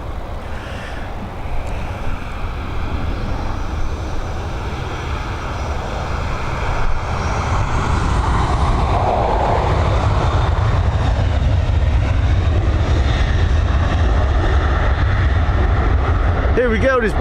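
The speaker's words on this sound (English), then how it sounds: "Here we go, this Boeing 737 heading over to Asturias in northern Spain." A Boeing 737 departs Dublin Airport's runway 10R for Asturias, the jet noise building from a rumble into a louder, sustained roar that swells toward the end.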